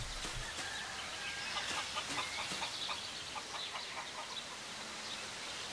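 A rooster in the online video game Tera Online clucks in a series of short, faint, repeated calls over a steady background hum, with no speech.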